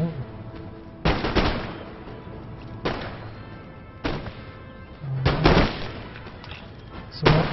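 Musket volleys crack out across a battlefield in Empire: Total War, several loud sharp bursts of massed gunfire separated by short pauses, with a faint background rumble.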